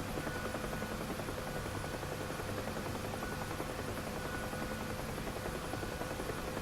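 Steady, droning rotor and turbine noise from a Huey helicopter near a runway in DCS, continuous and close with an even loudness throughout.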